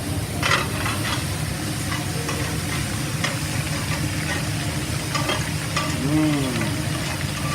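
Dry aged beef bulgogi, already cooked and sugary, sizzles steadily in a hot pan while being stirred, with scraping strokes over a constant loud fry and no talking.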